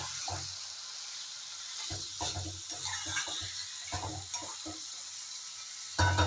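Mutton coated in mustard oil, chopped onion and turmeric is stir-fried in a pan, with repeated scraping strokes of a spoon over a constant close sizzle.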